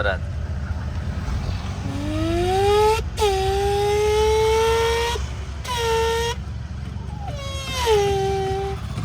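A boy imitates a car engine with his voice, producing rising and falling wailing revs in three or four sustained bursts, loud and close against a murmuring outdoor background.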